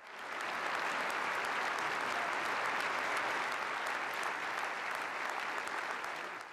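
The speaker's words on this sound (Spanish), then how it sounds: "su discurso en 2008 hizo que todos los políticos se levantasen en aplausos" Politicians at the United Nations applaud Pope Benedict XVI's 2008 speech, a sustained, dense ovation of many hands clapping at an even, loud level throughout, fading in at the start.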